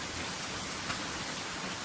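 Steady rain falls as a dense, even hiss across the whole stretch, moderately loud and unbroken, with no voices.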